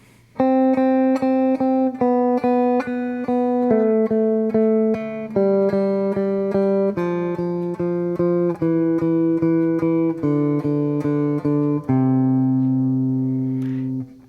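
A guitar plays a major scale warm-up exercise, clean single notes stepping evenly one after another in a steady rhythm, close and alone for the whole stretch.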